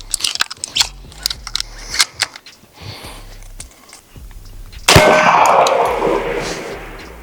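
An air shotgun fires once at a target with a sharp loud blast, followed by a long decaying rush of air, after scattered clicks and clanks of handling.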